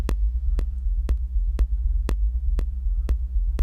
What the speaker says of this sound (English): I'm just going for a rumbling bass sound here.